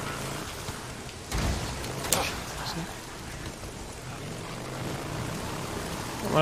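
Steady rain falls at night in a forest in the video game Days Gone, a dense hiss with a few louder thumps and splashes, with no voices.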